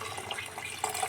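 Water poured from a container into a frying pan of sautéed mung bean stew, a steady liquid splash and trickle lasting about a second, close and moderately loud with no talking.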